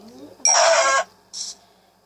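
Minecraft chickens clucking in-game: a loud burst of squawky clucks lasting about half a second, followed by a shorter, softer cluck a moment later.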